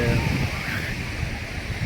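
Sea waves washing in at Somnath beach, a steady broadband roar of surf with wind buffeting the microphone, loud and continuous throughout.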